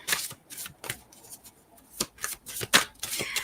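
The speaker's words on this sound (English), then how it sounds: "Just gonna shuffle a little bit, split the deck, and see what we got." A deck of playing cards being shuffled and split by hand, a series of crisp riffling bursts and soft taps at close range, with short pauses between them and no voices.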